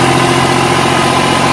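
A New Holland 5500 tractor engine runs in a soft farm field with a rotavator attached, a loud, close, continuous diesel rumble with a steady droning hum and no talk.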